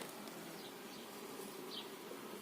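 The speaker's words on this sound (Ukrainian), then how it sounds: "Це називається вилетів рій." A dense, steady hum of a honeybee swarm leaving the hive fills the air, with individual bees buzzing close past now and then.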